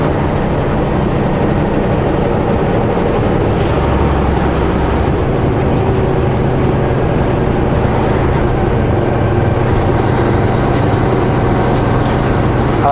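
A long freight train of empty cars pulled by a single engine rolls toward a coal mine near the Alberta-BC border, giving a steady, loud, continuous rumble and clatter that never lets up.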